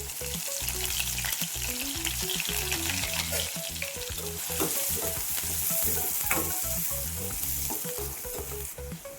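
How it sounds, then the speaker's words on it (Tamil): Onions fry in a pan for egg curry, with steady, loud sizzling and crackling and stirring scrapes throughout. "நல்லா வதங்கட்டும்"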